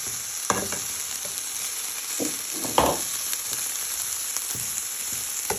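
Chopped onion and garlic with thyme leaves and stalks frying in a pan for prawn linguine, a steady close sizzle and hiss with a few sharper crackles and stirring knocks, no voices.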